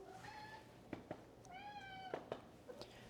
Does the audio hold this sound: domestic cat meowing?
yes